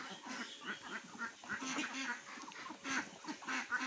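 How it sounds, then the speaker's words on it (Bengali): A flock of ducks on a duck farm quacks continuously, many overlapping nasal calls at close range forming a busy, chattering din. "দেখেন হাঁসগুলো সুন্দরভাবে কিন্তু সব বের হয়ে গেছে"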